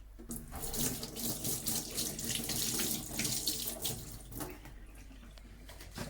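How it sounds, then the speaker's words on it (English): A kitchen tap runs steadily into a sink as spring onion is rinsed under it, a close, full rush of water with slight splashing changes throughout. "take off the old skin off the spring onion and give it a wash"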